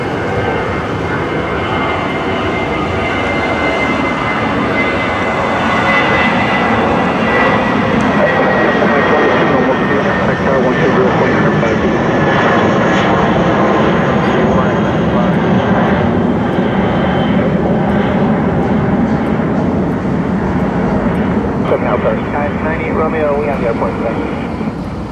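Loud, steady drone of a jetBlue airliner's engines filling the whole stretch, with a constant roar and faint tonal whine, and air traffic control radio voices talking over it.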